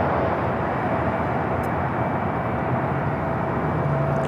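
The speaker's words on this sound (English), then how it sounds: "the flight heading back to Tokyo Haneda, now pushing back" Airliner pushing back from the gate for a departure to Tokyo Haneda at LAX, a steady loud broadband engine and airport roar with a faint tonal hum, continuous with no voices.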